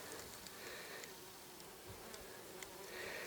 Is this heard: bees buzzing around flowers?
yes